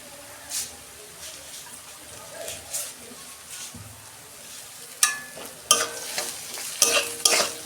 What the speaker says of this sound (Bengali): ভালো করে 2 মিনিট আমি কষে নেব।